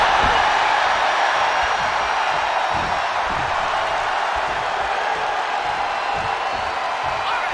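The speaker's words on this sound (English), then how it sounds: "The WWE Universe is showing their appreciation for the action they're seeing." A large arena crowd from the wrestling video game WWE 2K23 cheers in a steady, dense roar that holds at a constant level throughout, with no distinct voices standing out.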